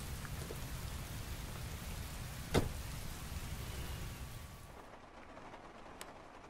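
Heavy rain patters steadily on surfaces in a game scene, a dense continuous hiss with one sharp thump partway through before the downpour softens near the end.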